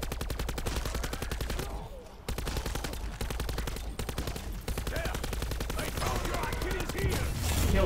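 Rapid automatic gunfire from the Hades weapon in Black Ops 4 Zombies rattles almost without pause, loud and dense with only a brief break, while someone talks over it.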